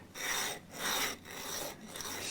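Sanding blocks rasp back and forth over guitar pickup parts in three or four even strokes, each a soft close scratchy rub with brief pauses between, quiet and without talk.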